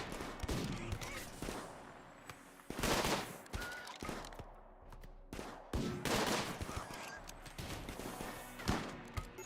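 Video game gunfire crackles in repeated bursts of rapid shots, loud and close, with short pauses between volleys.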